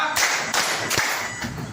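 A group claps out a short rhythmic pattern of sharp, evenly spaced claps during a teachers' coaching and academic supervision session, loud and close with no talk over it.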